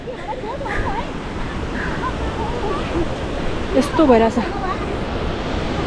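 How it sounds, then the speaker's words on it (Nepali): A swollen river rushes in a steady, broad roar close by on a hillside path, while people speak briefly over the noise. "पानी बेसी भइरहेछ खोला"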